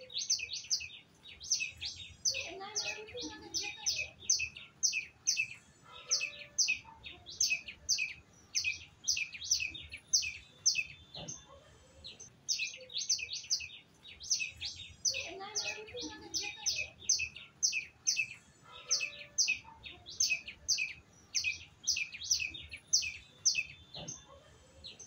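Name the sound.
birds chirping in trees near a river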